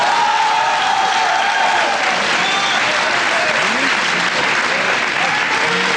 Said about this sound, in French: On peut applaudir cette équipe de Namur.